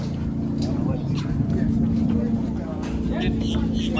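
An airboat engine drones steadily and loudly throughout, a constant rumbling hum on an Everglades-style swamp tour at Boggy Creek, with faint voices in the background.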